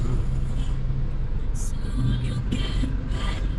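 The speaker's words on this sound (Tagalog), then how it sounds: "Traffic lang dito." Cars pass along a road in Tagaytay, a steady low engine rumble with a few brief swells as vehicles go by, heard close and continuous throughout.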